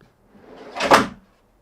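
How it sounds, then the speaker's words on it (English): A homemade overland kitchen slide-out on long drawer slides rolls back in with one smooth sliding rush that swells and then stops, close and fairly loud. "And then to bring it back in, release the mechanism, just slide her back in."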